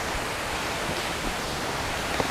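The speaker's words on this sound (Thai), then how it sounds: "เราได้ยินเสียงน้ำตกด้วย" Phlio waterfall in a Thai national park, a steady hiss of falling water from a distance that fills the whole moment without change.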